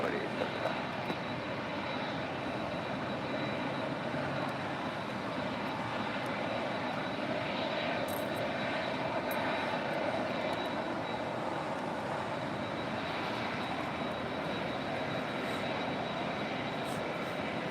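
Aircraft engines drone steadily at an airport, a broad continuous roar with a thin whine on top, holding at a constant moderate level with no clear rise or fade.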